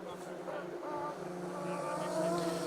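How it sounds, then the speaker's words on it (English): Ferrari-engined Lancia Stratos rally car on a rally stage, its engine holding a steady, harmonic tone at a moderate distance while a voice talks over it. "What a noise from Seb Perez and Gary McElhenney in that incredible"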